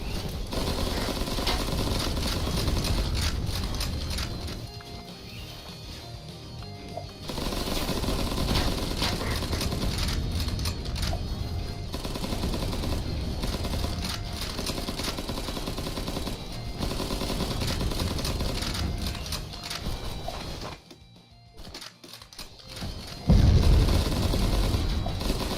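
A tier 3 grenade launcher fires in Cavalry Girls as a steady, dense run of loud rapid shots and booming blasts, with brief pauses and one short near-silent gap, and no talking.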